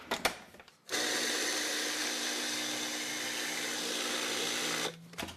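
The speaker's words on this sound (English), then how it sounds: "now what we want to do is puree it" A blender purees a vegan mock chopped liver pate, a loud, steady whir running for about four seconds alone after a short start, then cutting off.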